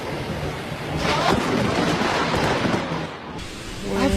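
Thunder from a nearby lightning strike rumbles as a loud, broad roar that swells and holds for several seconds, with a brief dip before it builds again amid rain-like noise.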